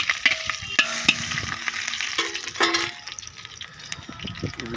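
Food fries in a pan as a snack before cooking biryani: a close crackling sizzle mixed with scraping stirring strokes and clinks, with no talking.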